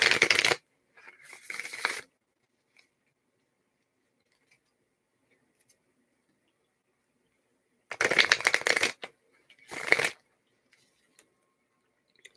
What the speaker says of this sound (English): let's shuffle this for Aries.